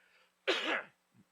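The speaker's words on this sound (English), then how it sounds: "I'm coughing." A single sharp, harsh cough up close, followed by a faint short throat sound.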